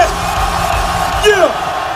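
A loud live rap concert audience cheers and shouts, with individual whoops and yells rising from the steady roar, including a sweeping shout near the middle.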